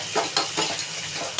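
Crushed garlic fries in a pan with stirring, giving a steady sizzle broken by several scraping strokes of a spatula. The sound is close and moderately loud, with no talking.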